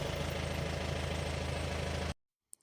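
A jeep on a Kolukkumalai safari ride idles while stopped, a steady low rumbling engine with a regular knock, then cuts off abruptly into near silence.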